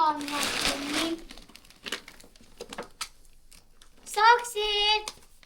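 A package wrapper crinkles as it is unwrapped, starting with a dense burst of rustling and followed by scattered crackles. Someone talks close by partway through.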